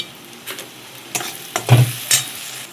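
Spices and raw prawns fry in hot oil while a spatula stirs through them, several distinct scraping strokes rising over a low sizzle, close and fairly loud.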